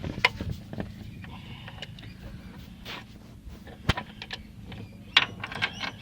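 Ratchet wrench turning the crankshaft of a Toyota 1MZ-FE V6 engine during big end bearing installation, giving scattered metallic clicks and sharp ticks over a low mechanical rumble, close by with no talk.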